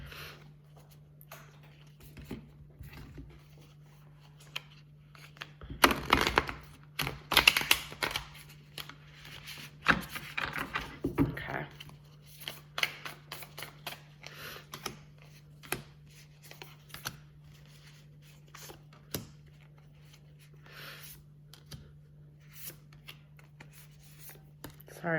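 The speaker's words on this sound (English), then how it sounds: "So I just want to make sure these are all shuffled." Light Seers tarot cards being shuffled by hand, a soft, uneven riffling and rubbing that comes in bursts over a steady low hum, with no talking.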